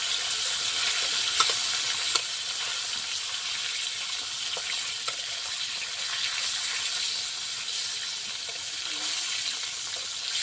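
Fish fries in hot oil in a pan for a curry with elephant-foot yam, giving a bright continuous sizzle with a few small clicks from the pan, alone and close.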